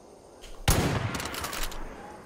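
Gunfire from a sniper rifle in the video game Far Cry 5: one sharp, loud shot followed by a rattling tail of further reports, with no talking over it.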